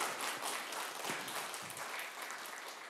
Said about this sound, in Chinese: 掌声一下